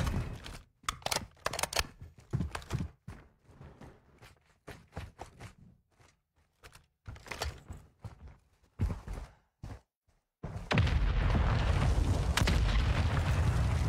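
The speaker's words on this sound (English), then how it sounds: "Mortar strike on him." Mortar strike explosions in a video game land as a string of sharp booms and thuds in irregular bursts, separated by brief quiet gaps, ending in a sustained loud roaring rumble.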